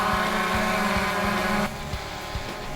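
A quadcopter drone buzzes steadily while being flown gently down to land, its high-pitched rotor whine loud and constant, then dropping abruptly in tone and level as it settles, with no talking.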